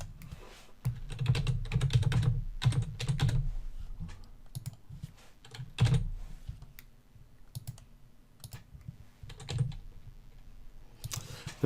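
Keys clatter on a computer keyboard in irregular bursts while a sign-up form is filled in, with brief pauses and a few louder taps.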